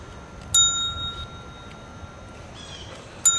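A small bell rings with a sharp ding, then rings again a few seconds later, each strike leaving a thin sustained tone over steady background hiss; no voices.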